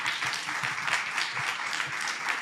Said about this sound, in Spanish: Por favor, recibamos con un fuerte aplauso a Santiago.